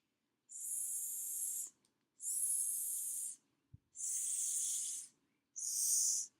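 Four long, steady hisses from snakes at a farm, each lasting over a second, separated by short silences, with a faint low knock between the third and fourth.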